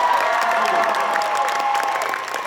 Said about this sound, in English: Let's hear applause for that, all right?